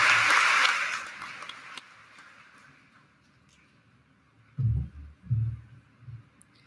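Audience applause for graduating students at a high school graduation ceremony, loud at first, then fading into quiet within a couple of seconds, followed by a few low thumps.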